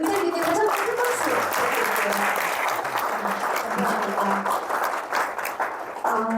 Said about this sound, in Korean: 우리 의장님께 다시 한번 큰 박수